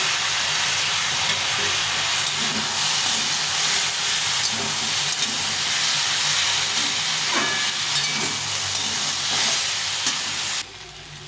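Vegetables sautéing in a hot pan with dry chilli, ginger and cumin, a loud, continuous sizzle and steamy hiss with occasional stirring scrapes, close by and alone.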